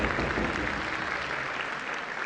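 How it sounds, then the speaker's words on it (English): A crowd at the Celebration 2024 gathering claps for volunteers, a continuous wash of applause at moderate distance that holds steady for the whole stretch. "Let's give the volunteers a big round of applause"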